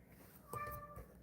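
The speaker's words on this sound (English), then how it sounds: "I have been hit by an avalanche of meows from my demanding cat before." A domestic cat gives a single short meow, faint and close by, in an otherwise quiet room.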